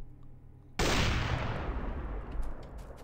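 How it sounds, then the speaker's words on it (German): Sustained gunfire in Factorio pours onto an enemy base, a sudden loud burst that holds as a dense, roaring stream of rapid shots for over two seconds, with no voice over it. "Okay, ich schieße mal auf die Base."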